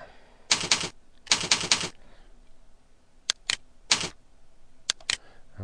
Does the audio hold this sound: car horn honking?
no